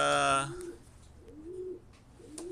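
Pigeons coo in a loft: several soft, rising coos repeat at a moderate distance after a brief voice at the start.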